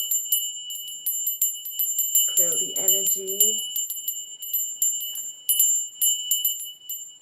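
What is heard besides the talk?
ringing a bell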